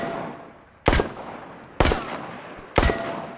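Three loud, sharp gunshots in a VR game ring out about a second apart, each cracking up abruptly from a quiet backdrop and decaying quickly, with no voices over them.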